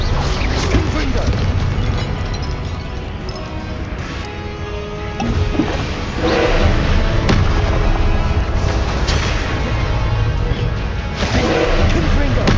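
Repeated Confringo spell blasts erupt in Hogwarts Legacy combat, crackling fiery explosions and crashing impacts layered over a dense, loud game soundtrack with a voice calling out spell names throughout.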